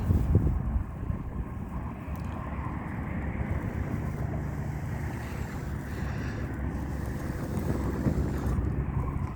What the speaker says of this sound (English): Yep, there goes the wind.